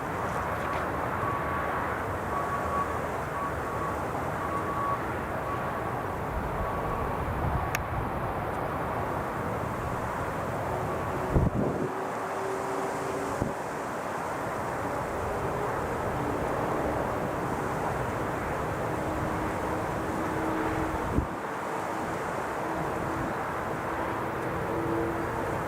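Military fighter jet flying near Newcastle International Airport, a steady broad roar that holds throughout at a constant, fairly distant level with no voices.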